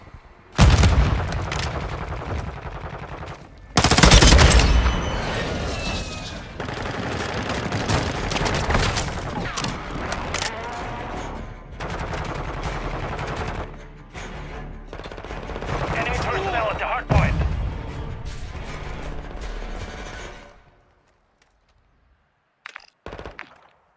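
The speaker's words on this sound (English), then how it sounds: "Friendly airstrike on the way." Call of Duty Hardpoint match with a friendly airstrike: loud booming blasts and rattling gunfire fill most of the stretch, with a big explosion burst early and another later, then fading to near silence with a few faint knocks at the end.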